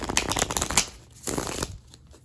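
Tarot cards riffle and shuffle in two quick bursts separated by a short pause, crisp and papery, recorded close with no talking.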